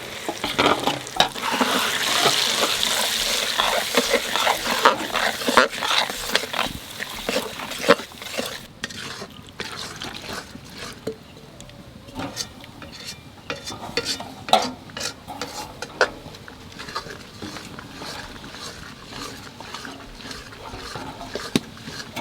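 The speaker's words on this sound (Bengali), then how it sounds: "যে মশলাটা বাঁচি ছিল তাই এখানে তেলের মধ্যে দিয়ে দেবো" Leftover green spice paste fries in oil for a green chicken dish, a strong close sizzle loudest at first, with repeated stirring and scraping clatter continuing throughout as the frying hiss gradually settles.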